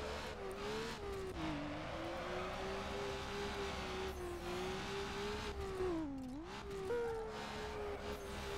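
Racing car in Need for Speed Underground drifting with a sustained engine drone and steady tire squeal, pitch dipping and rising through the slide, loud and continuous throughout.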